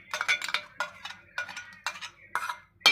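Dry prawn masala with an onion and tomato gravy is mixed in a pan, giving a series of close, loud metallic scrapes and clinks from a spoon in irregular bursts, with no talking.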